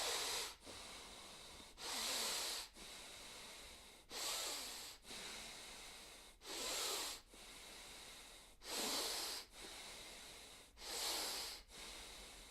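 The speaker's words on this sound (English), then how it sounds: "simply take 10 cycles, in out is 1 cycle, of nasal breathing like this" Slow nasal breathing during a relaxation exercise, with soft airy inhales and exhales through the nose. About six unhurried cycles follow one another close up and quiet, with no talking.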